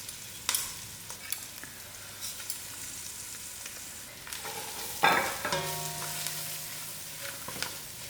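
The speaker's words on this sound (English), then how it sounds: "I'll allow the masala to cook out." Masala spices and turmeric frying in a pan before lamb goes in, with a soft sizzle broken by scattered clinks and stirring scrapes, and a sharper burst of crackling around the middle.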